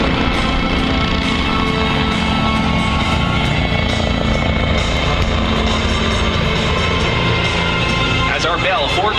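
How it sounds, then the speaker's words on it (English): A Bell 429 helicopter with a Georgia State SWAT unit flies at the Wings Over North Georgia 2021 air show, its loud, constant rotor and turbine roar filling the whole clip at close range. "As our Bell 429 helicopter repositions to the right"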